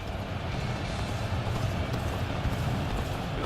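Steady muffled hoofbeats of a galloping horse in the video game Dynasty Warriors: Origins run continuously under a low, dense rumble, with no voices.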